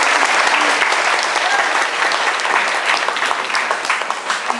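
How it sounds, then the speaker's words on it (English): Wedding guests give a loud, sustained round of applause for the couple at a reception, dense clapping filling the room with a few voices mixed in. "So a round of applause."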